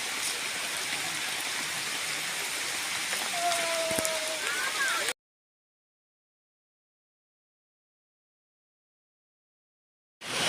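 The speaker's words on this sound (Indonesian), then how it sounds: "Hujan nggak berhenti dari tadi teman-teman." Steady, continuous rain pours down during a motorcycle trip in Musi Rawas, a dense hiss for about five seconds before the sound cuts to silence.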